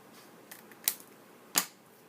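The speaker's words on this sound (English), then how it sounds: "You just take your scissors and cut it off." Scissors snipping through a paper card, giving two short, crisp, close cuts with faint rustling before them in an otherwise quiet room.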